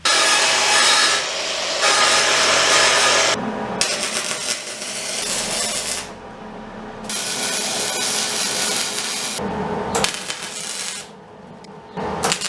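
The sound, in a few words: cutting a tab off a metal bracket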